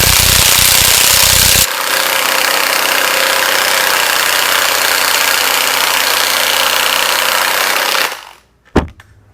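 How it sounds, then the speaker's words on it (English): Loud, steady mechanical grinding and whirring while a gear puller works the fan off a Porter Cable CF2600 pancake air compressor motor, a harsher burst at the start, then an abrupt stop followed by a single sharp clank. "So the gear puller is working."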